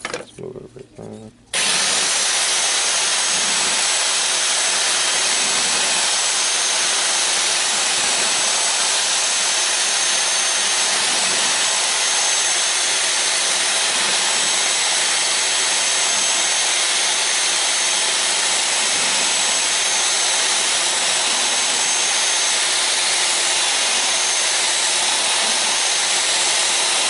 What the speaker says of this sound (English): And you can see me drilling at it for a bit.